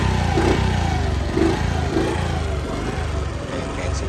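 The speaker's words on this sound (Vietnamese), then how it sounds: "Rồi, em nổ máy cho anh chị em mình nghe nha." A 1993 Honda Cub 50, a Japanese-market moped, runs with a close, steady small-engine putter, with a few throttle blips early on before it settles into an even idle.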